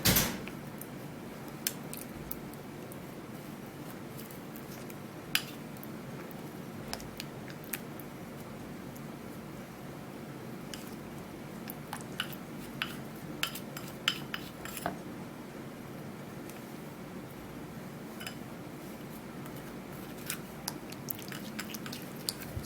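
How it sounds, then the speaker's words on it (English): A spoon stirring a lemon skin remedy mixture made with rose water or plain water, faint scraping and clinks against the bowl repeating irregularly over quiet background hiss, with no one talking. "and then you stir very well so we can get a very good consistency."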